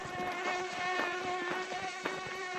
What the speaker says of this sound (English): I've never seen mosquitoes so bad in my life, ever.